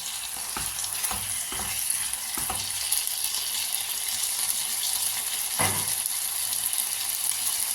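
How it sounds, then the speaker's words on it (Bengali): Spice paste for rohu fish curry sautéing in oil, a constant close sizzle broken by a few sharp scraping stirs, no voices present. "এর মধ্যে দিয়ে কষাতে থাকবো যতক্ষণ একটু তেল না ছেড়ে বেরিয়ে আসে"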